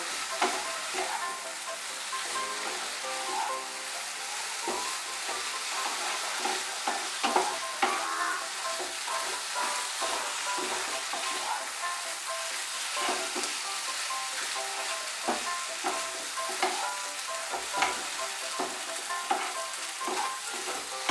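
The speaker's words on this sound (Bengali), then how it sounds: "মিশিয়ে আমি ভালো করে একটু ভেজে নেব।" Flat beans mixed with mustard paste fry and are stirred in a pan for a Bengali shim chorchuri, giving a steady close sizzle with repeated scraping and stirring strokes throughout.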